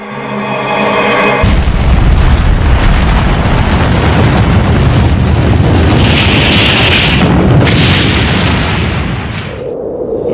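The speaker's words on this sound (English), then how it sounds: "The first atomic bomb that was dropped here" A loud atomic bomb explosion in archival footage: a sudden massive boom followed by a sustained roaring rumble lasting several seconds before it tapers off.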